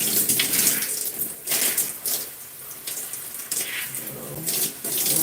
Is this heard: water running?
yes